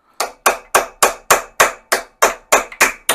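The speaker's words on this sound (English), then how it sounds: "Let's see if we can split the nut." Ten hard metallic hammer blows strike a seized nut to split it while rebuilding the top end of a VW Beetle engine, landing in a quick, even rhythm about three per second, sharp and close, each ringing briefly before the next.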